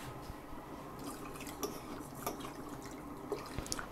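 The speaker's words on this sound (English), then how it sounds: "Let me put a little bit of water on it." A little water poured into a pot of cooking rice alongside goat meat and yam fufu: faint, steady trickling with scattered small drips and splashes, quiet and close, with no talking.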